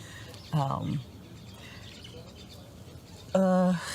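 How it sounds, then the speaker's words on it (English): Two short bird calls ring out, one early and one near the end, over a quiet outdoor background. "So what you hear now, the birds, that was a constant."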